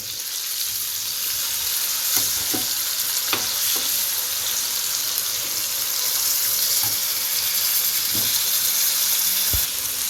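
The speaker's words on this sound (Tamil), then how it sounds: "ஸ்டவ்வை லோ டு மீடியம் ஃப்ளேமில் வச்சு நல்லா வேக வச்சு எடுத்துக்கலாம்" Chicken fries in a pan over a low to medium flame, a loud continuous crackling sizzle up close with scattered sharper pops and faint utensil clinks, no talking.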